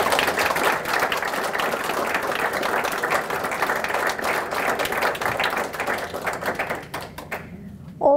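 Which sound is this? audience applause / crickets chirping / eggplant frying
audience applause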